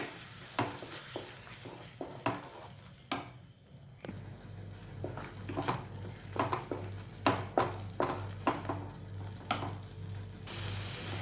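Curd is stirred into a frying masala for egg fry masala in a pan over low heat, with repeated spoon scrapes and clinks over a soft, continuous sizzle.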